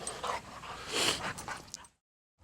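A dog out on a farm whimpers and yips in quick, excited bursts mixed with panting and scuffling close by, then goes briefly silent.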